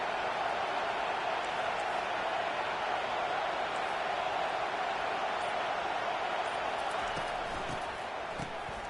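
A steady, dense roar from the crowd at an LSU college football stadium as the home defense pins the opponent deep, holding constant noise throughout with a broadcast announcer talking over it.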